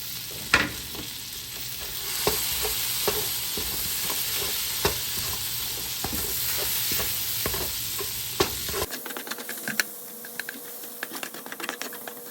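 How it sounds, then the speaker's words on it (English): Cauliflower and garlic frying in butter in a wok, a steady sizzle with repeated stirring clicks of a utensil against the pan, ending abruptly into a quieter stretch of scattered taps. "I'm gonna get that cauliflower nice and browned."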